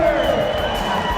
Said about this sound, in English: you can hear the crowd reacting